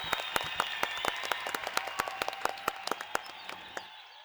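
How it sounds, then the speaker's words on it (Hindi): Live studio audience applauding for Mrs. Gulati on the comedy show F.I.R., a steady wash of many hands with sharp individual claps standing out, tapering off near the end. "मिसेस गुलाटी के लिए एक बार तालियां"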